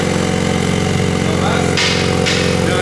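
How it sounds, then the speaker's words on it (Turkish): A BMW M3 engine fitted with a full Dinan exhaust idles loudly and steadily up close, with a dense throbbing rumble and a couple of brief hissing bursts. "bu M3 de şimdi bitti. Komple dinamik egzoz takıldı."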